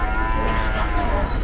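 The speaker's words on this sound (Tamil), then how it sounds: "எல்லாமே நாட்டு மாடுகள்." Native Indian cattle at the Karungalpalayam cattle market in Erode moo loudly and close by, a sustained low bellow over the market's background bustle.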